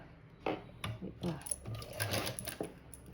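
A sewing machine runs a straight seam on a blouse in short, quiet bursts of rapid mechanical stitching, stopping and starting several times in a still room.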